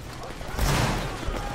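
A massed musket volley fires on a shouted command in a grenadier line battle game, a broad burst of gunfire swelling at mid-clip and rolling on, with voices around it.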